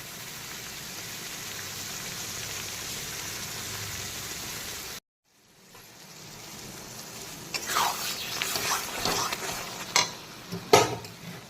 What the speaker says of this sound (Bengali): তো এখন দিয়ে দিচ্ছি কিছুটা পরিমাণ গরম জল বা ফোটানো জল